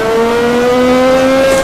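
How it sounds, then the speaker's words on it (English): A turbo Formula 1 car spinning its wheels at Adelaide in a racing game, a loud, steady high-pitched engine whine held close and alone for under two seconds, the pitch rising slightly. "Wheel spin, wheel spin."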